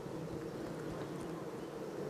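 Honey bees hum in a steady, low drone that carries on without a break, moderately loud and with no voices over it.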